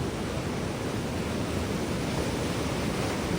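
The Sindphana river, flooded after heavy rain, rushes past in a continuous, dense, roaring wash of water that stays loud and steady with no voices.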